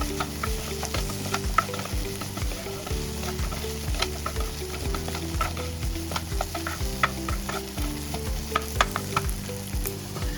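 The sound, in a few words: green chilies frying in a pan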